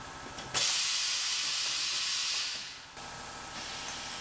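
A pneumatic tire machine clamps down on a tire: a sharp burst of air hiss, then a sustained loud hiss that fades, followed by a second shorter release of air, with no talking.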